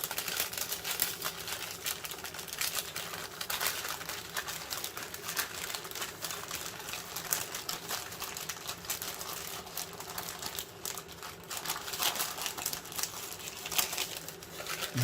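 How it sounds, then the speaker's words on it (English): Baking paper peeled slowly off a freshly baked orange-flavoured Swiss roll, giving a long run of close, soft crinkling and tearing crackles that continue unevenly throughout. "We'll then remove this paper."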